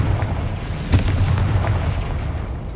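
A Confringo fire-blast spell explodes in Hogwarts Legacy: one deep, booming burst with a sharp crack near the one-second mark, over a continuous low rumble that fills the rest of the clip.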